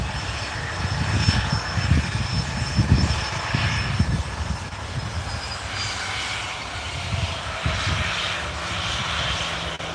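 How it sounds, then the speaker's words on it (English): A jet airliner departing Newcastle Airport for Dalaman roars steadily at a distance, a broad rumbling engine drone that swells and fades slightly over ten seconds. "So we'll sign off with this jet to Dalaman."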